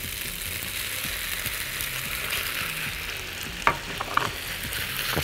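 Tuna and pasta sizzle steadily in a hot pan, close and continuous, with a few sharp clacks of a spoon stirring against the pan near the end and no speech.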